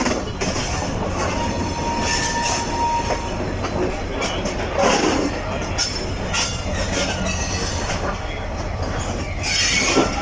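The Shah Latif Express passenger train rolls steadily along a branch-line track past Hyderabad Junction, with a continuous loud rumble, wheel clatter and occasional squeals heard from on board, without talking.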